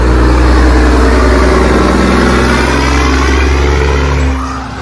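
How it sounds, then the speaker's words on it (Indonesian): A gas tanker truck, its tank carrying LPG, drives past loud and close with a steady engine roar that fades slightly at the end. "kalau yang ini truk gas teman-teman"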